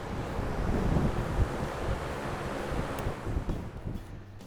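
Fans in a KidWind wind tunnel run with a broad, steady rushing roar of moving air, fairly loud and easing slightly toward the end.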